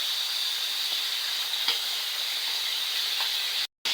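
Chicken legs browning in hot oil for a chicken patola misua soup give off a steady, close sizzle and hiss that runs unbroken, with a few faint crackles, before cutting off abruptly near the end.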